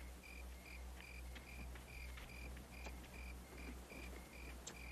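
Crickets chirp steadily at night in regular repeated pulses, a constant insect chorus over a low continuous hum, with no voices.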